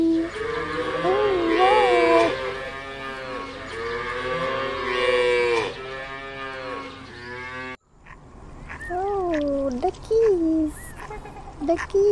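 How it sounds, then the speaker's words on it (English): Grazing cows moo loudly and nearby in long drawn-out calls, one long lowing bout followed by a brief break and then more mooing. "Oh, cows are grazing. Cows are grazing in the ground."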